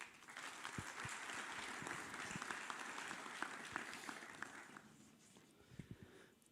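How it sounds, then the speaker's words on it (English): Applause from a conference audience fills the room as a speaker is welcomed, a steady wash of many hands clapping at moderate distance that thins out toward the end. "So please, a big round of applause for Exona."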